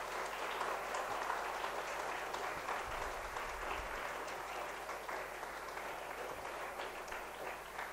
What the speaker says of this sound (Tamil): அந்த மகான் டாக்டர் ஜிஎஸ்கே அவர்களுக்கு ஒரு பலத்த கரகோஷம் கொடுக்கலாம்.